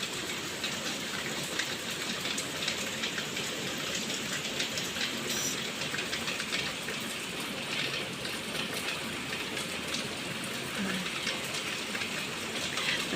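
Steady rain patters down throughout, a soft continuous hiss of drops on surfaces with a few faint distant sounds mixed in.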